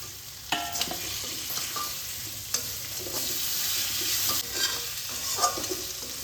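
Chopped tomato stirred into a sizzling pan of bottle gourd greens, a soft steady frying hiss broken by repeated clinks and scrapes of a spoon against the pan.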